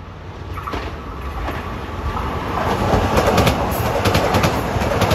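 A Long Island Rail Road commuter train to Ronkonkoma passes Elmont station at evening rush hour, a loud close rumble of wheels with clickety-clack and a faint high squeal, building as it goes by.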